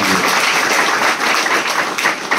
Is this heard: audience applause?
yes